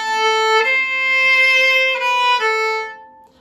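A viola plays a slow Bourrée excerpt: a few sustained bowed notes, with a long half note swelling in a crescendo, clear and close with no talking.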